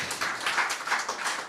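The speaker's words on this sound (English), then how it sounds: "If yes, make some noise of applause." A short burst of scattered hand clapping from a small group at a conference forum, fairly even and moderately loud, with no voices.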